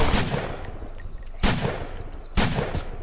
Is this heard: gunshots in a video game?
yes